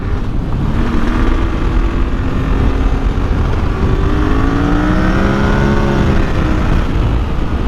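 A vehicle engine revving hard under throttle, a loud continuous roar with rising and falling whining pitch sweeps, close and steady over rushing wind noise.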